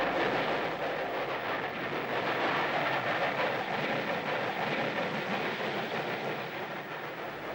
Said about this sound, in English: as the train continues at 1 in 60